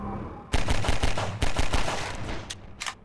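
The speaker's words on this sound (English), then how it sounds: "so it's gonna start shooting at me" An enemy turret firing in a video game, a series of sharp, loud shots in uneven bursts, a dense cluster early then a few spaced final shots.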